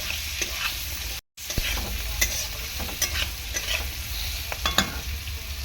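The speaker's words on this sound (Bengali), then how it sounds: "সবজি বলতে আলুটা ভালো করে কষিয়ে নিলাম" Potatoes sauté with cumin powder in a pan, giving a continuous close sizzle broken by scraping stirs, with a brief silent gap near the start.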